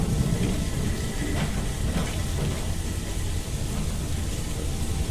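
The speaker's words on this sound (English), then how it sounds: "It's the middle of the night, and it's raining" Steady nighttime rain in Fallout London near Piccadilly Circus, a constant hissing downpour with a low rumbling bed, even in loudness throughout.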